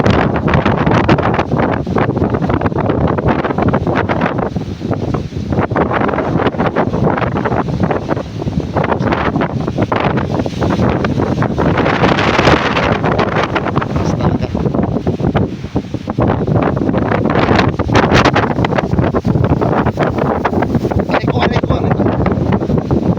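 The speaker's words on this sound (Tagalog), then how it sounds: "sobrang lakas ng hangin" Strong wind buffets the microphone at Seven Commando Beach with boats nearby, a loud continuous roar with gusting rumble and surf mixed in throughout.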